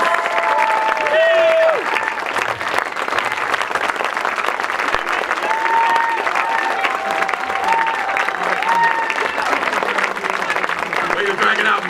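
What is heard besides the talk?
audience applause for presenter Marilyn Chris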